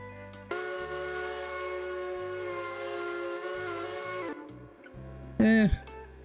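A Central New Jersey steam train whistle in a railroad video game sounds one long, steady multi-tone chime for about four seconds over a low rumbling engine, followed by a short rising and falling whistle blast.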